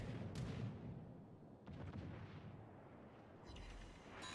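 Heavy naval guns firing in World of Warships Legends, a deep booming salvo near the start followed by rumbling blasts and a further low thud toward the end, with no talk over it.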